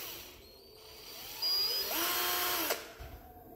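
A DongCheng DCJZ1202i cordless drill, which has impact and drill modes, spins up with a rising motor whine, runs briefly at a steady pitch, then cuts off and winds down, close and fairly quiet.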